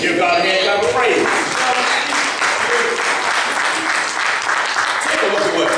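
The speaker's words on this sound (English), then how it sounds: "Give God a hand clap of praise" A church congregation claps in praise during a Father's Day service, with sustained, loud applause from many hands mixed with voices and what sounds like music running underneath throughout.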